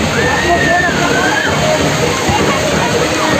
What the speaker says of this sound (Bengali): এইখানে কিন্তু জল পড়ছে